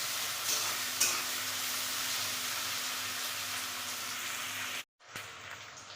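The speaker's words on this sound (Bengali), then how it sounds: "আবার পেঁয়াজগুলো লাল করে ভেজে নিয়ে তারপরে মশলা দেবো।" Chopped onions frying in oil in a pan, a steady close hiss of sizzling with occasional stirring scrapes, then a short break before the frying resumes.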